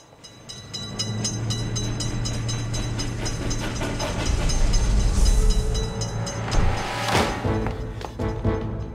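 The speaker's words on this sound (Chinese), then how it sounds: "是火车经过道口的声音。" A train crossing a level crossing, its rumble swelling to a loud, close pass with rhythmic wheel clatter, hissing and ringing metallic tones before easing off.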